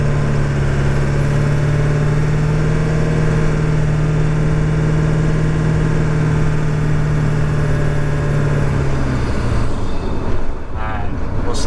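A Ford 7.3 Powerstroke diesel truck engine drones steadily up close with a constant low hum and faint turbo whine, fading slightly near the end.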